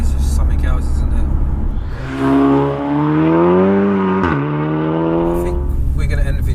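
A 600 BHP four-wheel-drive Seat Cupra engine climbs hard through rising revs, shifts once with a sharp dip, then pulls loud and close again. Voices murmur around the start and end.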